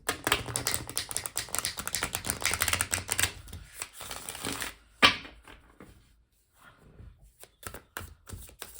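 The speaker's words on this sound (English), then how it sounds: "One more shuffle and then I'll just go ahead and cut the deck here for us." Rapid riffling clatter of a tarot deck being shuffled, loud and dense for a few seconds, then a tap and quieter scattered handling sounds as the deck is cut.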